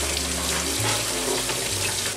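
A kitchen faucet runs steadily into a sink while peppers, tomatoes and other vegetables are washed under it, a close, continuous rushing of water with slight shifts as the produce moves through the stream.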